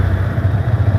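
A Yamaha R15 V3 motorcycle engine idles steadily up close, a low rhythmic chugging with a slight clatter.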